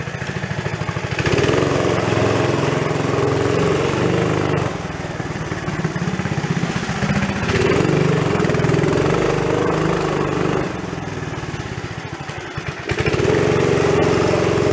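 A roughly fifty-year-old Rupp mini bike engine, pulled from scrap, runs steadily close by, its loud buzzing drone rising and falling as the throttle shifts, with brief dips and a hesitation between surges.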